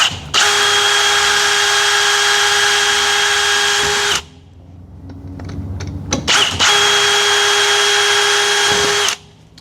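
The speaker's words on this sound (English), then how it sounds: "I'm just going to drill these through" A loud power drill whines in two long, steady bursts while drilling holes through a metal sprocket, separated by a short pause with clunks and handling noises.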